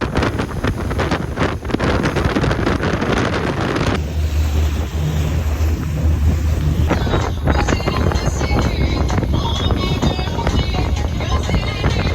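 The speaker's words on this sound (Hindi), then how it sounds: "this boat ride was about 2 hours long" A boat cruising on the Bosporus in Istanbul, with loud wind buffeting the microphone over engine rumble and rushing water throughout.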